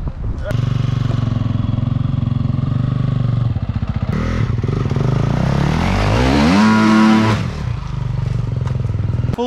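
An enduro dirt bike engine revs hard and climbs close up over rough log terrain, with rising acceleration, rattling clatter and scraping, loud and continuous throughout.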